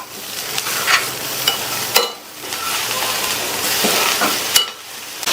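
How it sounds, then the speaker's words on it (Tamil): Chopped ridge gourd stir-frying in a pan with a coconut mixture: a continuous close sizzle broken by repeated scraping stirs of a spatula, with no voices. "கட் பண்ணி வச்ச பீர்க்கங்காயை சேர்த்துக்கலாம். சேர்த்துட்டு நல்லா மிக்ஸ் பண்ணி விட்டுருங்க."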